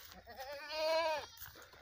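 A heavy Desi milking goat, an Amritsari type on a goat farm in Pakistan, gives one drawn-out bleat that swells and fades, close by and clear against a quiet background with no talking.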